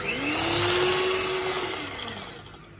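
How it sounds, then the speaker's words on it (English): An electric hand mixer beats cupcake batter with an added egg, a steady close motor whine with a slight pitch rise and fall, running continuously and alone before gradually easing off. "we are going to add our egg and then beat again until it is well mixed"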